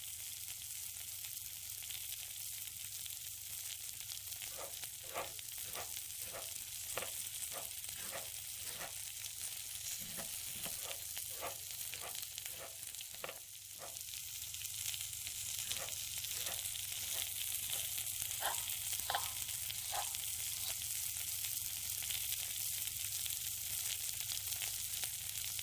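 Fish, chicken and minced meat cooking on a rooftop barbecue, a steady broad sizzle with a run of light rhythmic taps and scrapes, close and continuous, with no talk.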